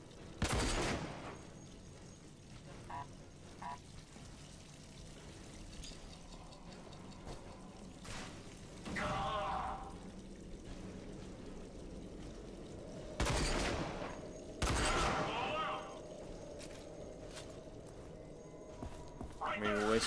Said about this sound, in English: Grenades and shots.